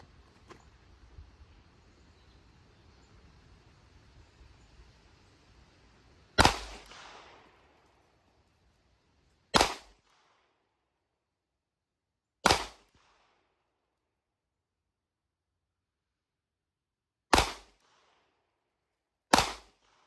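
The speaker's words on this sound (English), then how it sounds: "Shooting once again from about 8 yards." Five sharp pistol shots from a Glock Model 48, fired at about 8 yards on a range, each a loud isolated crack separated by pauses of a few seconds, following a stretch of faint low rustling.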